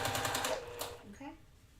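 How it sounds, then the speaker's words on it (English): A sewing machine stitches quilt block pieces together in a quick, steady run of needle pulses that stops after about a second, followed by a brief voice. "And we're going to sew our pieces together."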